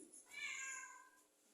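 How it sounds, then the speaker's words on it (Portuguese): A kitten wanders into a lecture hall and lets out one drawn-out meow, fairly faint and alone, with no talk over it. "Apareceu um gatinho aqui agora, ele invadiu o lugar."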